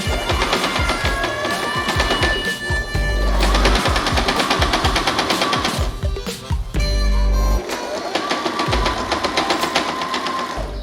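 A sewing machine stitches the tongue of a handmade, personalized espadrille. The motor whirs loudly and close up in steady bursts with brief pauses, and no one speaks.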